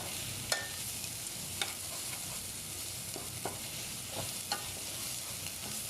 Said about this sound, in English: So here I'm frying all the ingredients I just mentioned.